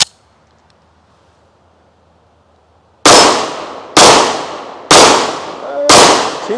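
Four loud, sharp gunshots ring out from an RIA 22 TCM Tac Ultra pistol fitted with a red dot sight, evenly spaced about a second apart after a quiet stretch, each trailing a short echo.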